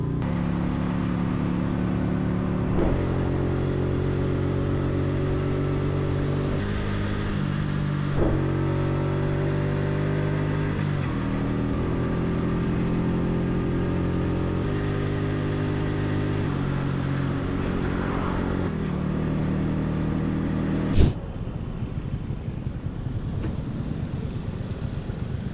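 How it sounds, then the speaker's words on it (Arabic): Motorbike riding along a road, its steady engine drone shifting pitch through gear changes for a long stretch, with a sharp knock near the end and no talking. "الموتور يقدر يكابري بيا في اي لحظه"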